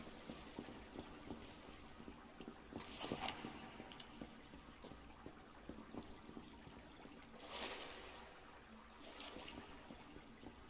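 Waterfall water in the survival video game Subsistence runs as a steady, faint trickling rush, with a few louder splashy swells drifting in and out.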